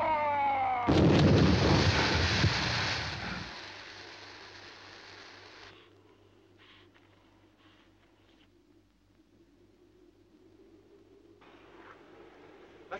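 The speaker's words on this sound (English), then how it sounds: "I'll try a gas grenade." A gas grenade going off in a 1956 science-fiction film, one loud sudden burst that roars for a couple of seconds and then fades into a low hum with faint scattered noises.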